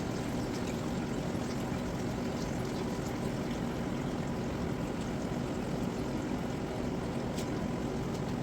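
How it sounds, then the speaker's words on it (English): Engine oil drains from a wheelbarrow rat rod's small engine, a steady liquid pour and trickle running continuously at close range with no talk. "Let's drain the oil out of this thing."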